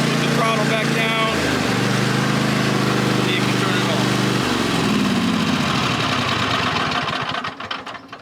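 A Cub Cadet Enduro series lawn tractor engine runs close and loud, its steady mid-pitched drone shifting in pitch partway through before cutting out and fading at the end.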